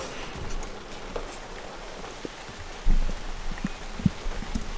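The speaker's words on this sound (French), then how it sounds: "il pleut vraiment de plus en plus" Rain patters steadily on surfaces at an outdoor market, a fine continuous hiss with scattered louder drops and a few knocks and taps breaking through near the end.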